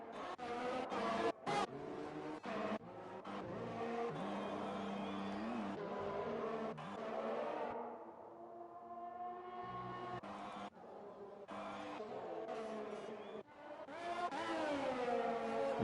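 F1 race cars lapping the Abu Dhabi circuit in the video game F1 2020, a loud continuous high-pitched engine whine rising and falling through gear changes, with a brief lull before the revs climb again.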